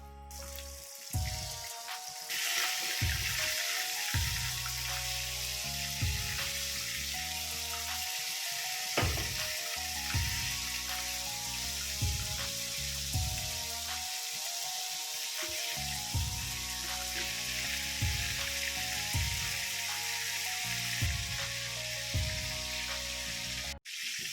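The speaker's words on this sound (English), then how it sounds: "So this step is mostly so that you can brown the liver. It's just to brown it. So you have to ensure the oil is hot enough." Beef liver browns in hot oil in a pan, giving a steady, fairly loud sizzle and hiss that runs unbroken throughout, with tonal background music underneath.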